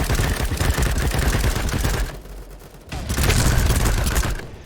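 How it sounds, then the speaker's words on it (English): HK419 rifle fire in BattleBit Remastered: loud rapid bursts of gunshots, a short pause, then another sustained volley, close and punchy over a booming low end. "that first set of shots was just to hear the HK sound so amazing"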